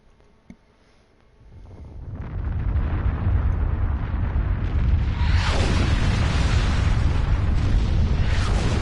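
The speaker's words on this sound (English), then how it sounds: "Detonate the charges." Detonated charges explode on a sphere in the Star Trek Online space game, a sharp pop followed by a swelling, sustained rumbling roar that stays loud and continuous to the end.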